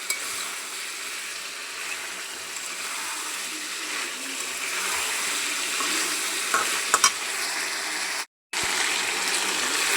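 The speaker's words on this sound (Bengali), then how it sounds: "এখন আমি এই যে ঝোলের পানি দিয়ে দিলাম।" Frying chicken and new potato curry in a pan as hot water is poured in, giving a steady close sizzle and bubbling with a few brief stirring clatters and a short break near the end.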